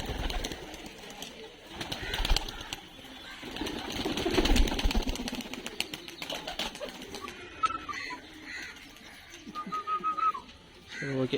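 Pigeons released from a loft take flight outdoors, with bursts of fluttering wingbeats rising and falling and scattered whistles above a low background hum.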